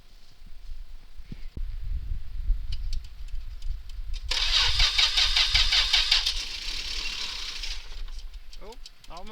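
A car engine cold-started after its battery is hooked up, cranking over with a rattle and whine before catching briefly and running rough, with people talking nearby.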